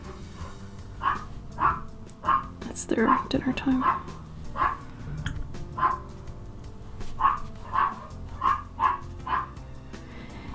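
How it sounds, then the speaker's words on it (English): A hungry dog screams and yelps in a string of sharp, repeated high cries indoors, with a brief louder burst, while a person talks over it. "Don't worry, it's my dog. He's screaming because he's hungry."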